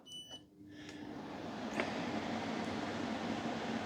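A small 9,000 BTU portable air conditioner switches on with a faint click and a brief tone, then settles into a steady, even broadband whir with a low hum underneath, moderately close and alone.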